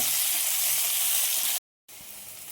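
Cubed potatoes sizzle and fry steadily in hot oil, a loud, close, continuous hiss with a brief break of silence before it resumes.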